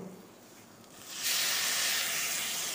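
Masoor lentils sautéed with spices and hog plums in a pan, a soft hiss that swells abruptly into a louder, steady sizzle partway through.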